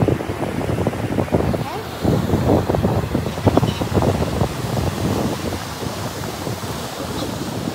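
Surf washing onto a beach near Visakhapatnam, a steady broadband roar of breaking waves with wind buffeting the microphone, loud and continuous throughout.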